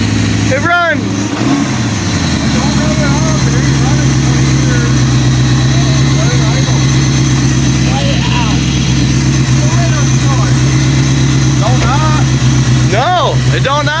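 A Corvette engine that has just started runs steadily as it warms up, a continuous low idle rumble near and loud, with people talking briefly at the start and near the end.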